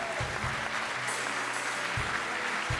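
A church congregation at an evangelical service claps together in loud, dense applause that continues without a break, with rhythmic beats running through the crowd noise.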